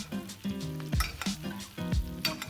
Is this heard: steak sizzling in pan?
yes